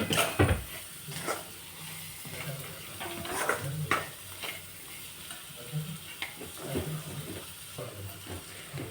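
Sprouted moth bean curry with salt being sautéed in a pan, soft sizzling under intermittent scraping stirs of a spoon against the pan, fairly close and moderate in level.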